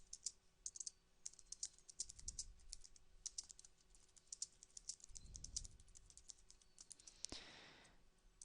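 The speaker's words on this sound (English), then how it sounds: "while I'm typing almost her exact question" Rapid, uneven keystrokes clatter on a computer keyboard, close and clear, with bursts of typing broken by short pauses and a few louder clicks.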